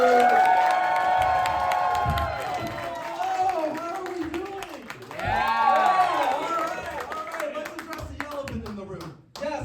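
A comedy club crowd claps and cheers for a comedian at a stand-up competition, loud sustained applause mixed with whoops and shouting voices before dropping off abruptly near the end.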